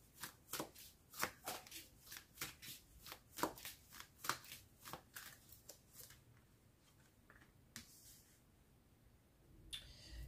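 Tarot cards shuffled by hand for a reading, a quick run of riffling, flicking bursts for about six seconds, then a few sparse card taps, with no talk.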